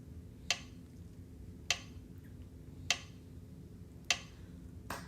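Hand claps in a steady quarter-note rhythm: five sharp, evenly spaced claps about one beat apart, clear and fairly close over a low background hum, with no talking.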